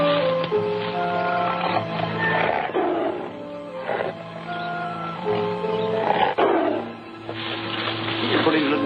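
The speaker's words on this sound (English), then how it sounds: "Big tiger." A big tiger caught in a gun trap roars repeatedly in deep, rumbling bursts, loud and close, with a few strained growls between them and no speech over it.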